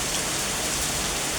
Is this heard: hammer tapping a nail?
no